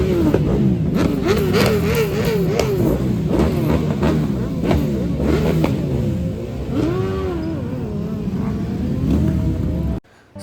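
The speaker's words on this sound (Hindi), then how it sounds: "So this is a small clip from the auto expo जिसमें बहुत सारी लग्जरी एंड रेसिंग कार्स आए थे" Engines of luxury and racing cars rev repeatedly at an auto expo, rising and falling whines layered densely and loudly throughout before cutting off abruptly near the end.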